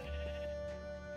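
A Minecraft sheep gives one short, close bleat, a wavering nasal cry over steady game background tone.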